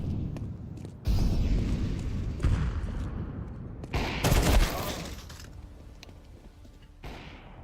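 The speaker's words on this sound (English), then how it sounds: "I'm throwing a flashbang. Throwing fire." In Counter-Strike 2, a flashbang and an incendiary grenade are thrown: a sharp, loud burst lands early, a second heavier blast follows a few seconds later, and then the noise fades into lingering crackle.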